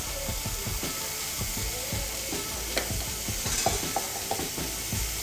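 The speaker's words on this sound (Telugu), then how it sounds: "ఇప్పుడు దీన్ని ఒకసారి మొత్తాన్ని బాగా కలుపుకుందాం." Curry with a spoonful of turmeric just added gets stirred in a hot frying pan, a spoon scraping in a steady rhythm over a constant close sizzle, with a few sharper clinks toward the end.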